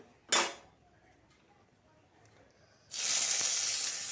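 Finely chopped medium onion dropped into hot oil, a brief clatter at first, then a loud, steady frying hiss that starts suddenly and keeps going, with no voices.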